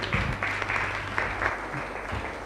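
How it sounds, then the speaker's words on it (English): Audience applause greeting a masterclass teacher at a breakout session, steady crowd clapping throughout with a low hum underneath. "Give her a round of applause."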